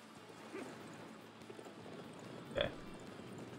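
Horse hooves clip-clopping in the Dynasty Warriors 9 Empires video game, soft rhythmic footfalls under game noise with a sharper clash near the end.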